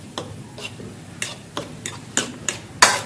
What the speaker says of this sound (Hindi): अब अच्छी तरह से मिक्स करेंगे इसे